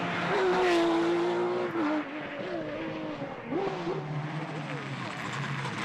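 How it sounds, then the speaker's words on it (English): A Porsche rally car at the start of a Belgian rally stage, its engine loud and close, revving and changing pitch as it accelerates away, with a commentator talking over it. "So a good start of the rally for the ever spectacular Patrick Snijers and his Porsche"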